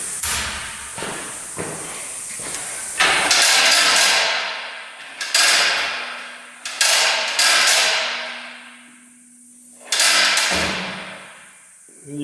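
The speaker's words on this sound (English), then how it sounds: "So we're going to do it the easy way and use the impact." Impact wrench removing oil pan bolts, in several loud rattling bursts separated by pauses, each burst trailing off as the tool winds down, close and dominant.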